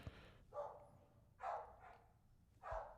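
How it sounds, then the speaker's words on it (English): A dog barks three times in a quiet room, each bark short and sharp, spaced about a second apart, faint and somewhat distant. "Shut up, dog."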